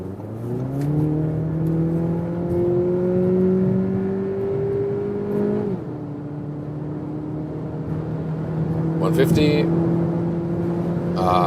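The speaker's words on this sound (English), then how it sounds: "So let me do one more acceleration here when we're already at speed." A premium compact SUV accelerates hard on the road while already at speed, its engine drone climbing steadily in pitch, easing briefly as it shifts, then pulling again over a constant road and wind rush inside the cabin.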